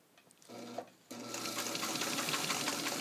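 A restored Singer 66 sewing machine modified for extra-heavy sewing runs steadily while stitching thick material with thick thread, a close, continuous mechanical whir that starts briefly, pauses, then resumes loud and even.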